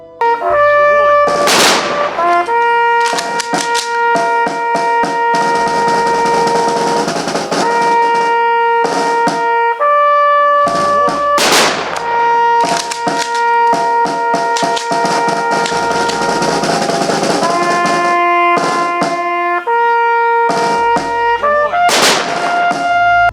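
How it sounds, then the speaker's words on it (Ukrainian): Three sharp military salute volleys crack out about ten seconds apart at a soldier's funeral while a brass band plays loudly and continuously throughout. "Проводжали мужнього воїна під залпи військового салюту та гучний оркестр"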